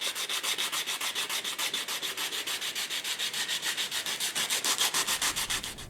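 Hand sanding with 100 grit sandpaper on a screwdriver project, a rhythmic back-and-forth scratchy rasp of about five to six strokes per second, close and fairly quiet, with no voices.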